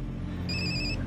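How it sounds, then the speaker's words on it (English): A telephone rings in a room, a single short electronic trill held for about half a second over a low background hum, with no speech. "You better get that. It might be the phone."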